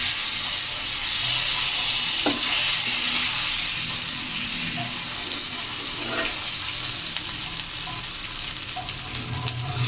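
Sarputi fish frying in a pan of oil, a loud, steady close sizzle with a few faint scrapes and pops over about ten seconds, no voices.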